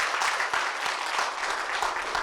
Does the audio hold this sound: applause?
yes